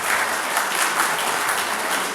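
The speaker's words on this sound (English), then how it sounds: "people are clapping" An audience at a spiritual discourse session in Auckland applauds: dense, continuous clapping from many hands, loud and close, filling the whole brief moment without any voices.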